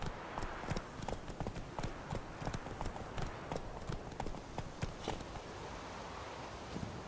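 Rhythmic hoofbeats of a horse trotting in The Witcher 3, crisp clip-clop strikes in a steady pattern over a quiet outdoor ambience with faint wind, continuing throughout.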